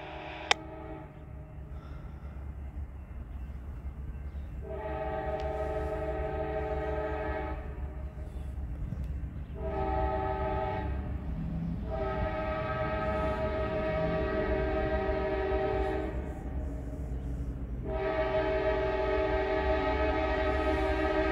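A CSX freight train of 132 cars passes through Rushville, Indiana. Its horn sounds in several long, loud blasts over a steady rumble and rolling clatter of railcars, with no talking.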